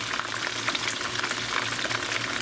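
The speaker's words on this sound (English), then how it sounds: "Listen to that sizzle." Steady, crackling sizzle of hot dogs frying in a hot pan, a dense hiss that fills the whole clip without pause.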